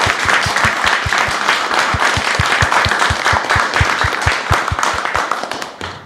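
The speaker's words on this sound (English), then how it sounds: "a big round of applause for Karun." Steady audience applause fills a forum hall, dense and sustained for about six seconds, with regular sharp low thumps running under the clapping.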